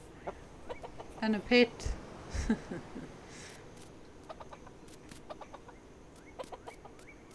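Chickens in a pen in the farming game Dinkum give scattered soft clucks and chirps over a steady ambient hiss, with a brief spoken remark early on.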